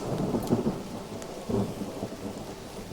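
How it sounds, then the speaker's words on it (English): Thunder from a lightning strike in the game Mind Over Magic rolls over steady rain, with two deep rumbling bursts a second apart swelling out of the downpour. "show me the other lightning strike"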